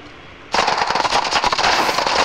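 Rapid automatic gunfire from the mobile shooter game Battle Prime bursts in after a quiet half second, a dense loud rattle of shots that continues steadily to the end.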